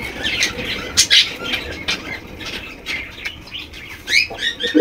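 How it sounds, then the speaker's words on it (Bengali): Golla pigeons in a cage give short chirps and squeaky calls at irregular intervals, with brief wing flutters, close by against a low background murmur. "এখানে রয়েছে আরো এক জোড়া গোল্লা কবুতর দেখতেই পাচ্ছেন।"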